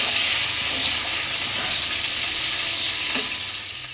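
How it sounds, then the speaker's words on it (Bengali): Cauliflower and potatoes fry in hot oil with a steady, close sizzle and hiss, a few stirring scrapes breaking through near the end. "আমি ফুলকপি আর আলুগুলোকে ভেজে নেবো।"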